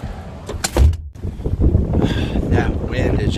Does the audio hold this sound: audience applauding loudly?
no